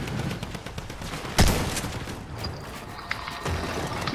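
Sniper rifle shots in a Fortnite battle royale match, a sharp loud crack followed by gameplay noise, with a few fainter clicks and thuds afterward.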